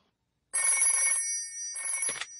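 Cartoon telephone bell ringing in a Peppa Pig episode, two bright electronic rings with a brief gap, clear and close with no voices.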